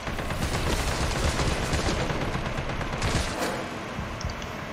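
Rapid gunfire from an assault rifle in the video game Resident Evil 3 Remake, a dense, fairly quiet rattling burst running continuously for several seconds with no talking.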